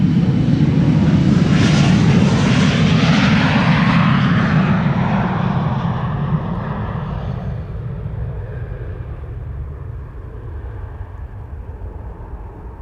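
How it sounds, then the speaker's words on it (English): An Embraer 175 jet bound for Inverness takes off from Amsterdam Schiphol Airport with a loud, close engine roar that stays steady, then slowly fades and thins as the aircraft climbs away. "Embraer 175 to Inverness, taking off here."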